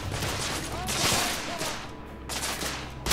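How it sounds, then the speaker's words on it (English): Heavy gunfire in the PS4 shooter The Order: 1886, a dense, loud, continuous barrage of overlapping shots and crackling explosions throughout, with no talking. "I'm under heavy fire!"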